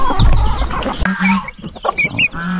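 Chickens cluck on a small free-range farm, a burst of close, overlapping clucks and squawks followed by a few short separate calls.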